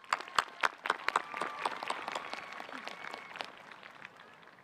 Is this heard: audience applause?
yes